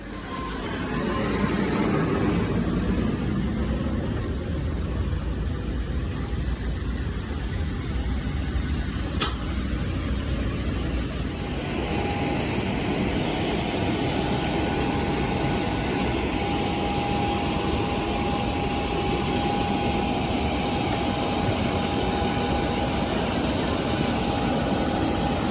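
Steady broadband roar of the jet engines on an Avelo Airlines Boeing 737-700, heard from inside the cabin, continuous and loud with a faint high whine throughout and no talking.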